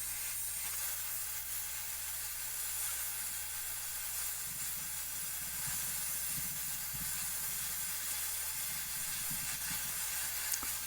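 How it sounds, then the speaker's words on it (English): A rosebud torch roars with a steady, broad hissing flame while it heats a piece of iron for bending into a 90-degree angle, close and constant throughout with faint low rumbling underneath. "I'm going to go ahead and use the rosebud torch so I can actually keep applying more heat right at the spot above the weld"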